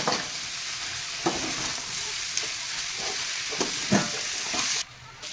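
Cabbage, carrot, spring onion and peas with chopped tomato frying in a pan for chicken patties, a steady close sizzle with periodic stirring scrapes that stops abruptly near the end, no talking.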